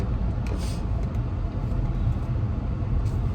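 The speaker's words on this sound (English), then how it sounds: "I feel like I need to let my car warm up some." Low, steady rumble of a car engine idling while it warms up, heard from close by, with faint traffic-like texture and a few brief higher clicks.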